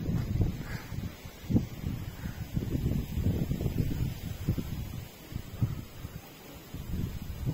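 Wind blowing at an outdoor fishing competition, gusting in uneven low rumbles and buffets against the microphone, with rustling in between, moderately loud and continuous.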